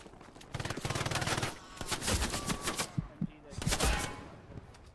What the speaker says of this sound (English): There's an MG just past me on the right side of the road.